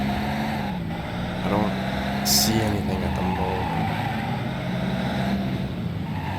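A steady, droning car engine from a Driver: Parallel Lines video game hums throughout at a constant pitch, with slight revving shifts and a voice talking over it.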